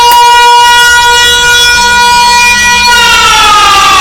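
An alarm made of loud, sustained horn-like tones with many stacked harmonics, sounding continuously and steadily throughout and gliding slightly upward near the end, with no voices over it.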